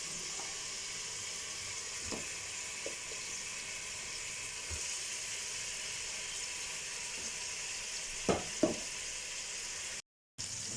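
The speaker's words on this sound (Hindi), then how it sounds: "इसको 3 से 4 मिनट जो है वो हम फ्राई कर लेंगे" Marinated chicken wings fry in a pan with a soft, steady sizzle, broken by a few faint clinks and stirring taps, quiet and close with no talking.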